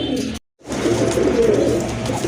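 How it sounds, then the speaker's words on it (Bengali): A pair of Rajgolla pigeons coo up close, with soft, low rolling calls after a brief silent gap. "আরেক জোড়া কবুতর, রাজগোল্লা কবুতর"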